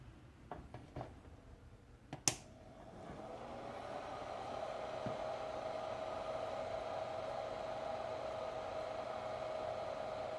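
A Wanhao Duplicator i3 V2 3D printer switches on after a few clicks, and a sharp snap is followed by a steady fan-like whir with a thin constant tone that holds for several seconds.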